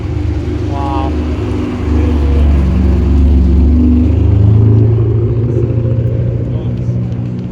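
A Ferrari 575M with its V12 engine drives past on an Auckland street, a loud, sustained low rumble that swells toward the middle and then fades, with people talking over it.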